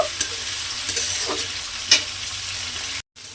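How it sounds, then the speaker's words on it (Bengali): Prawns fry lightly in a hot pan for mixed fried rice, giving a steady soft sizzle with occasional stirring scrapes and small pops, close and continuous, no voices. "মাছটাকে আমি এখানে একটু হালকা করে ভেজে নেব"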